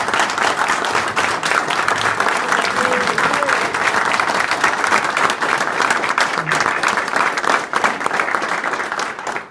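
Audience applause at a book launch, a loud, continuous burst of many hands clapping close by that holds steady for nearly ten seconds before tapering off at the very end.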